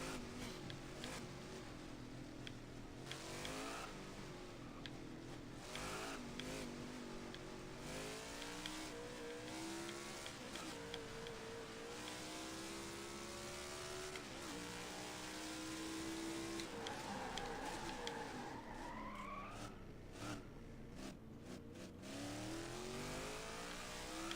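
A NASCAR stock car in NASCAR Heat 5 with a 2021 mod, racing on a Canadian Tire road course, its engine revving and shifting continuously with rising and falling pitch, tires squealing and skidding in places, loud and close throughout.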